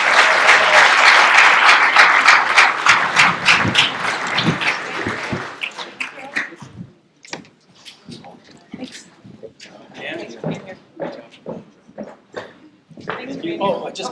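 Audience applause at a Sanders County Ledger candidate forum for commissioner candidates, loud and dense at first, thinning into scattered claps and murmured talk, then a brief swell near the end.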